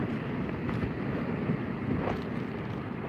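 Wind blowing over open water where a kayak angler is out fishing, a steady low rumble and buffeting against the microphone with faint water movement, no talking.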